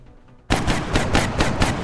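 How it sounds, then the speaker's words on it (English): Gunfire from the XCOM Long War video game: after a half-second of quiet, a loud burst of about six rapid, evenly spaced shots rings out close and clear. "Nice shot, Mike."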